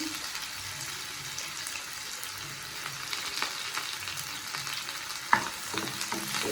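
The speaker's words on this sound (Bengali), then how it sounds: "লঙ্কাটা একটু ভাজা ভাজা করবো। তারপর দেবো পেঁয়াজ কুচি" Green chillies, chopped onion and garlic fry in hot oil with a steady crackling sizzle, a soft stir scraping now and then, and one sharp clink near the end.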